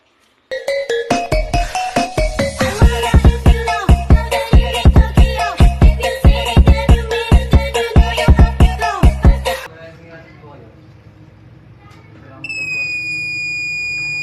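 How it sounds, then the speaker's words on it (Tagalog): An Arduino vehicle collision-warning alarm driven by an ultrasonic sensor: a loud series of rapid pulsing beeps repeats for several seconds, then stops; after a quieter pause, a steady high electronic tone sounds. "It warns the driver with an audio and visual alarm when they about hit something"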